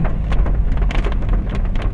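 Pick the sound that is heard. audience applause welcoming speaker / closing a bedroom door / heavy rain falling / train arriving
heavy rain falling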